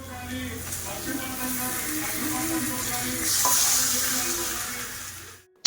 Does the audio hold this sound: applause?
no